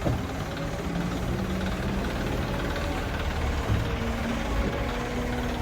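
A steady, low cattle truck engine rumble idles continuously with faint tonal hum, close by and unbroken, with no voices over it.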